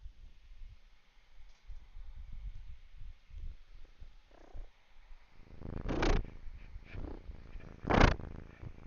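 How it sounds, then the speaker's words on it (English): A domestic cat purrs close by in a quiet room, a soft steady rumble that carries through the clip, with two brief louder bursts of handling or rustling partway through. "You can probably hear purr"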